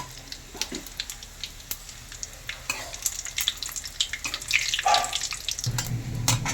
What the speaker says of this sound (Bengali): তেজপাতা, শুকনো লঙ্কা, এলাচ আর দারচিনি ফোড়নে আমি দিলাম